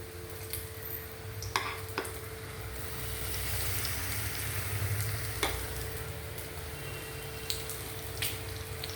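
Snacks deep fry in hot oil, a soft continuous bubbling sizzle with a steady hiss and occasional faint clicks of stirring or utensils.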